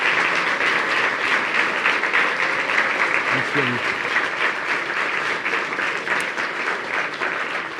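Sustained, dense audience applause fills the hall after a lecture on gravity in cinema, steady and loud throughout and easing slightly near the end, with a voice briefly speaking over it.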